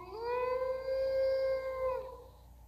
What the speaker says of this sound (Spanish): Vale, aullido.